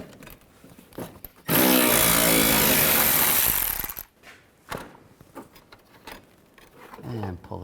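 A power tool, likely an impact wrench or ratchet, runs with a loud, continuous whir for about two and a half seconds, removing a bolt with a 10mm socket on a 2010-17 Nissan Sentra. Quieter clicks and handling noises follow.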